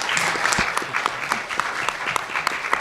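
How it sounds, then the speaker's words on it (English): A conference audience at the QGrad Conference 2018 in Royce Hall claps steadily throughout, a dense roomful of hands with individual sharper claps popping out near the listener, loud and sustained with no talking. "let's give them a last round of applause"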